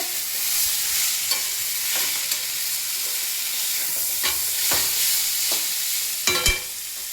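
Banana stem and eggplant frying in a pan, a steady close sizzle with repeated scraping stirs of a spatula and a louder clatter near the end.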